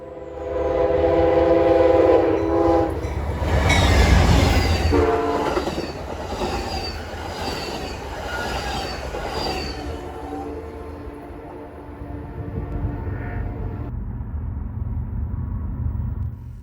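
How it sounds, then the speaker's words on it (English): Inbound Amtrak Texas Eagle passenger train on its last miles into Chicago on the Joliet subdivision, horn sounding in long blasts over a loud rumble and clatter of wheels that passes close and slowly fades. "we catch the inbound Amtrak Texas Eagle making its final few miles into Chicago"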